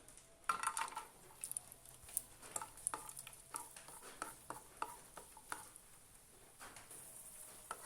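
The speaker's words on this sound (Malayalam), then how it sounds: "നെയ് നല്ലതുപോലെ ചൂടായി വന്നിട്ടുണ്ട് അതിലേക്ക് കുറച്ച് കാഷ്യൂ നട്ട് ചേർത്ത് കൊടുക്കാം" Cashew nuts fry in hot ghee with a soft sizzle, while a spoon stirs them in the pan, producing scattered light clicks and scrapes. The sound stays quiet and close, with no talking.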